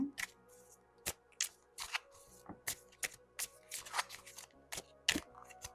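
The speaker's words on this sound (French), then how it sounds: "je bats les cartes en même temps que je réfléchis" Tarot cards are shuffled by hand in a quiet room, with sharp, irregular riffling snaps and soft slides spaced a fraction of a second to a second apart, close and alone without speech.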